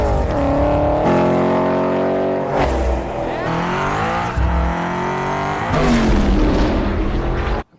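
Fast car tearing along at high speed in a movie scene, a loud engine roaring and shifting pitch through several gear changes and revs, ending abruptly.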